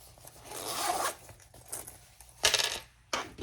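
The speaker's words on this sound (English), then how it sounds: "And it zips perfectly" The zipper on a pocket of a fabric crossbody bag is pulled along its track, giving raspy zipping strokes and short bursts of handling noise, close and fairly quiet with no speech.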